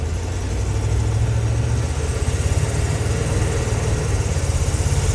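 A Chevy C20 tool truck drives on a real road for the first time with a loud, close engine drone and a steady pulsing throb that strengthens slightly as it takes gas.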